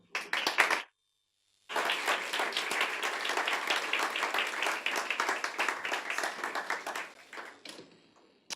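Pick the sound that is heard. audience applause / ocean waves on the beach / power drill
audience applause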